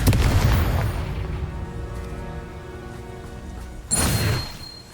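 Confringo fire spell explosions in Hogwarts Legacy, a loud booming blast at the start that rings out, then a second sharp explosive burst near the end, with no talking.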